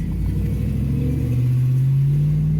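A truck engine revs loudly and steadily, its low rumble climbing in pitch as it accelerates past close by, with no voices over it.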